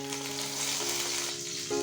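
Mustard seeds and curry leaves sizzle in a little hot oil, a close, steady crackle with a faint background hum throughout.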